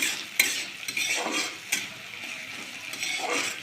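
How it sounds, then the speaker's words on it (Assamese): Onions frying with dried chillies and bay leaves in a pan for a chicken meat dish, with a steady close sizzle broken by several sharp scrapes and clinks of a spoon stirring against the pan. "পিঁয়াজটো ভাজি লৈছোঁ।"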